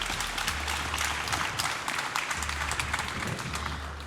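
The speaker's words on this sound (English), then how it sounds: "Let's give a huge round of applause to all of our panelists up here" A conference audience at an AI summit at Santa Clara University applauds its panelists, a sustained, fairly soft patter of many hands clapping, heard from within the hall, with a low hum beneath.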